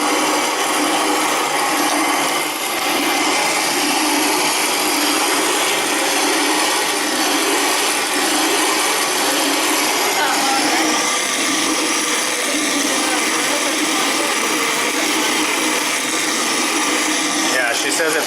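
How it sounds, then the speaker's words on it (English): Grain ground in a Country Living hand crank grain mill, a loud continuous gritty grinding and rumbling held steady close up, with voices faintly present underneath. "it is a hand crank mill"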